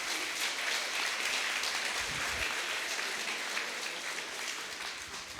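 Steady applause from an audience at a live awards ceremony, a dense, even wash of clapping that holds for several seconds without voices over it.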